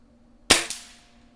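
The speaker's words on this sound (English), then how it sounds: "So let's shoot him again." A single sharp crack from a Weihrauch HW77K air rifle, followed at once by a softer smack of the pellet hitting the target and a brief fading ring.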